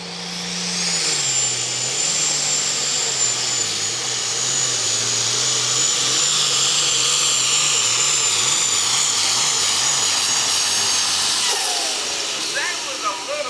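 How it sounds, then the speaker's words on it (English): Nineteen-sixties D21 tractor engine roaring under heavy load at a tractor pull, loud and sustained for about twelve seconds with a rising turbo-like whine and a wavering engine note, the roar easing off near the end. "And you're getting a tractor from back in the 60s."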